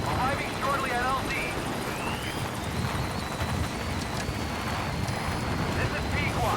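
A support helicopter arrives at a landing zone in Metal Gear Solid V, its rotor and engine roar forming a dense continuous wash, with outdoor ambience and faint tonal whines throughout.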